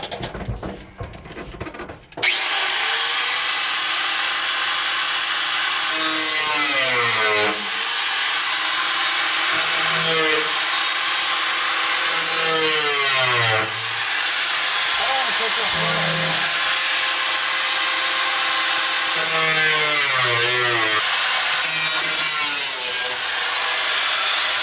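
A saw cuts a straight line during a manual transmission swap on a Bullnose Ford F150, producing a loud, steady, continuous cutting noise. It runs for over twenty seconds while someone talks over it.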